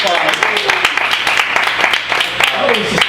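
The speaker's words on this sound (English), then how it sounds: "Come get in and give a round of applause." An audience at an enterprise sales meetup claps in a dense, steady burst of applause lasting the whole stretch, with voices calling out and talking over the clapping.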